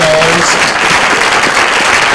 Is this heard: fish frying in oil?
no